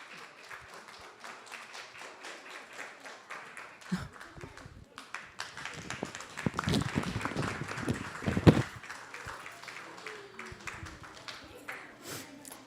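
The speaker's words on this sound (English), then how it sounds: "So big round of applause to Radhika Prema Mataji." An audience at a children's annual day and graduation celebration at ISV Vedic Academy breaks into clapping that swells mid-way and then tapers off, with voices talking around it.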